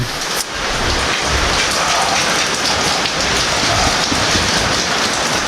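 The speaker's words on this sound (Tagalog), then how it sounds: "hindi pa tumigil ulan" Steady heavy rain pours onto a surface nearby, a constant dense hiss that fills the whole stretch.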